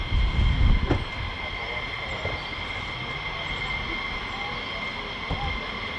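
An F-15E Strike Eagle jet at RAF Lakenheath rumbles and roars on takeoff, a continuous broadband engine roar with a louder burst at the start, heard from a distance.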